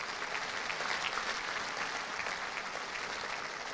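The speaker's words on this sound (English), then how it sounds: "Continue that round of applause" Steady, dense applause from a large indoor audience at a world indoor bowls championship, continuous and even throughout with no voices standing out.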